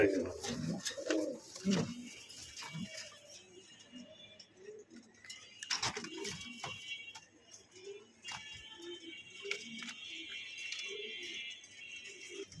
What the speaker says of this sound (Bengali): খুবই জনপ্রিয় এক জোড়া কবুতর